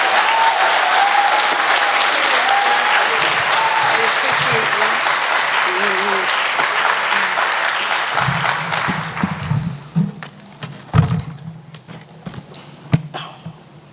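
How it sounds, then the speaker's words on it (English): An audience at a National Crime Victims' Rights Week ceremony applauds a crime victim advocate, loud sustained clapping that thins after about eight seconds into scattered claps and fades out. "So if we can give her a round of applause"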